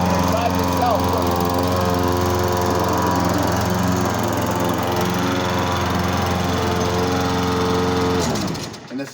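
Close, steady engine drone of a self-propelled lawn mower driving itself, a constant humming buzz that runs unbroken for about eight seconds and then cuts off abruptly.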